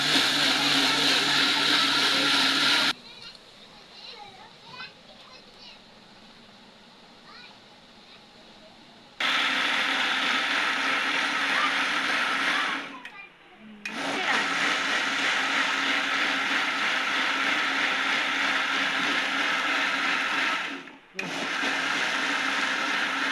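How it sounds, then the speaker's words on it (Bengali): Mangoes being blended in a kitchen blender, the motor whirring loud and steady in several long bursts separated by short pauses, with a quieter stretch near the start. "এইভাবে সবগুলো আম ব্লেন্ড করে নিব"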